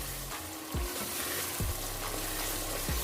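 Spiced masala for aloo gobi sizzles steadily in a pan while a spoon stirs and scrapes through it, with three distinct scraping strokes standing out against the continuous frying hiss; no one speaks.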